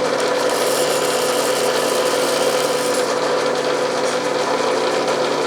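Constant, loud mechanical drone of a Bridgeport mill running a large holesaw through aluminum at a slow 115 RPM, steady hum without pause and no voices.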